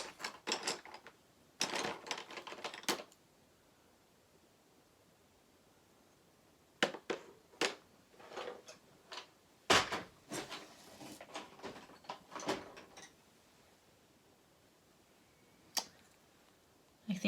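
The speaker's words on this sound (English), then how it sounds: "you can hear me digging through my drawers" Wooden drawers of colored pencils being rummaged through, with clusters of clicking, rattling and sliding bursts separated by quiet pauses, close and moderately loud.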